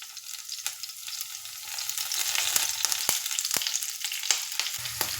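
Curry leaves and green chillies drop into hot oil for a green gram salad, a bright, steady sizzle swelling louder, with sharp spatters and occasional spoon taps against the pan, close up and with no talking.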